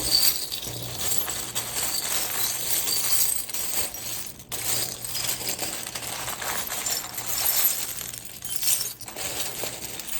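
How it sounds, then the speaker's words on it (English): Steady clinking and rattling as cards are shuffled, continuous and close, with brief pauses. "let's give this a good shuffle"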